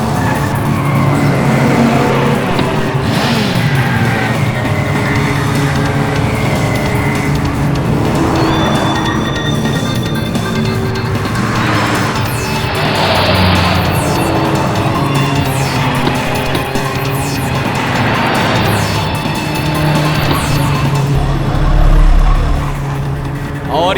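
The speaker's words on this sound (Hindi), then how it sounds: "ये देखिए, गाड़ी नंबर 5 सबसे आगे जाते हुए" Race cars speed around a track, engines roaring loud and continuous with repeated passes and tire noise, while a commentator talks excitedly over them.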